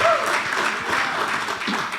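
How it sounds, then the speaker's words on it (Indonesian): Congregation applauding during a Sunday service at a church in Batam, a loud continuous patter of many hands, with a brief voice or tone at the very start. "Beri tepuk tangan lagi buat Tuhan Yesus."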